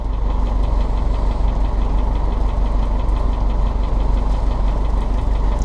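A cold bug-out vehicle engine, just started, idles in a steady, loud, close rumble with a fast even knock throughout and no pauses or voices.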